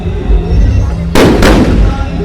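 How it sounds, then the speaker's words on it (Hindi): A single loud, sharp blast bursts over steady background crowd noise at a Ramleela event, followed quickly by a second crack, then the ambient murmur continues. "और इसी के साथ धमाके शुरू हो चुके हैं।"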